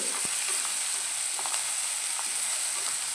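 Onion, green chilli, ginger and garlic frying for a squid masala curry make a dense, even sizzle that holds steady throughout. One soft knock is heard near the start, and nobody speaks.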